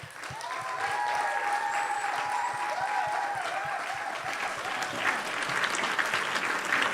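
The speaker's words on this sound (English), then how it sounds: "I want to give them a round of applause," Sustained audience applause for volunteers at a web festival awards ceremony, dense clapping from a sizeable crowd holding steady for several seconds, with a few cheers and whistles mixed in.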